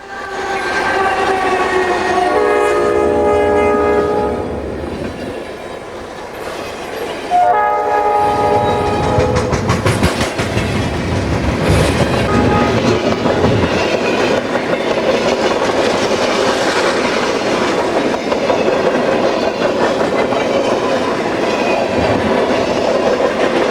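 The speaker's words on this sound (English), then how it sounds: "headed from Toledo, Ohio to Sterling Heights, Michigan, behind a pair of big blue EMD SD50s." A Conrail freight train hauled by two blue EMD SD50 locomotives passes in winter, horn blasts sounding early, then a loud sustained rumble and clatter of wagons rolling by close.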